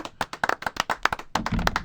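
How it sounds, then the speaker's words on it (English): Crisp hand claps ring out in an uneven burst of many sharp strokes, close and loud, turning into a denser patter of applause near the end. No one speaks. "give him some real claps"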